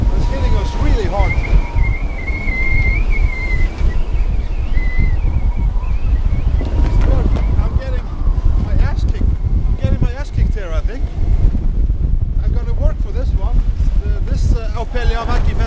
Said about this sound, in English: the wind is changing as well and picking up